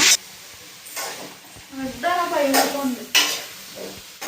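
Cauliflower fry sizzling in a pan as it is stirred, with bursts of frying hiss and scraping strokes between pauses while someone talks over it.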